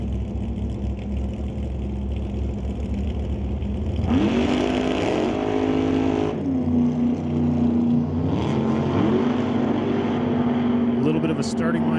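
Drag race cars launch off the line in a Lordco Auto Parts Supercombo race, engines roaring loud and sustained as they tear down the strip, the pitch rising and shifting through the run while a commentator talks over it.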